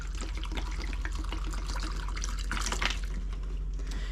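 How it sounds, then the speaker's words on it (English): Steady running water pours from a tap, filling a container with a continuous broadband rush and splashing throughout. "fill it up with water."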